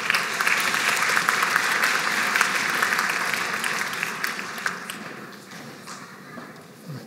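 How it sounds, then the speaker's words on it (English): Applause from a graduation audience greets pharmacy technician graduates leaving the stage, a full round of crowd clapping that starts strong, then dwindles to scattered claps within a few seconds. "A round of applause for them."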